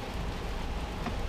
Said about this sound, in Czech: začalo pršet